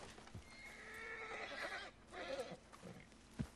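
In the video game Red Dead Redemption 2, a horse gives a long, drawn-out neigh at fairly low volume, followed by a shorter whinny and a few scattered hoof clops and thumps.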